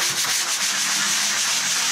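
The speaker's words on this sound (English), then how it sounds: "just take this soft sanding sponge and I'm just going to sand" Soft sanding sponge worked by hand in circular strokes over a custom wooden table top's finish, a loud close scratchy rubbing with a quick repeating rhythm.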